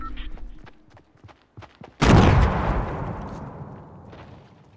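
A single loud gunshot blast in the Fortnite video game cracks out sharply and then decays in a long tail, following a stretch of faint clicks and rustling.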